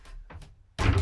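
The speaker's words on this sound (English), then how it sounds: "close that door off that way, and then we have a bathroom." Cabin door on a narrowboat pulled shut, a faint soft knock or two followed by a louder, fuller thud as it closes near the listener.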